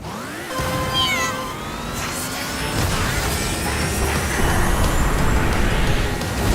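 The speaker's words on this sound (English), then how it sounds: "the sounds for the engine and the starting light sound are still not quite there" Engine and starting-light sounds from the kart racing game Crash Team Racing Nitro Fueled: a dense, steady engine roar with rising tonal beeps and sweeps layered over it, loud and continuous, no talk.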